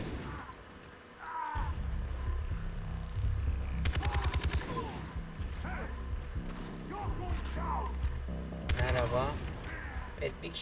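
Automatic gunfire from the Far Cry 3 video game, sharp bursts of rapid shots cutting in over a busy game soundscape of ambient noise and effects, loud and close.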